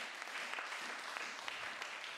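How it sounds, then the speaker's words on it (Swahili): A church congregation clapping hands in praise, a dense, even wash of many hands applauding together at a distance, fairly quiet throughout. "Shangilia Yesu tena kwa makofi mengi"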